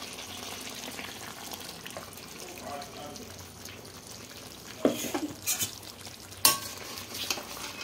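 Coconut and green chili paste is stirred into simmering chicken in a pan, with scraping spoon strokes over a soft sizzle and a few sharp clanks against the pot.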